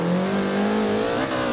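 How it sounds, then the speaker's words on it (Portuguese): A Subaru BRZ in the Forza Motorsport racing game, heard from an exterior camera, holds a loud, steady engine drone with a strong buzzing tone that rises slightly in pitch, then dips briefly near the end, with no voices. "o som do motor de fora"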